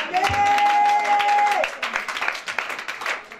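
A worship congregation applauds and cheers continuously, with dense, loud clapping from a crowd throughout, a sustained sung or shouted note over the first part and voices mixed in.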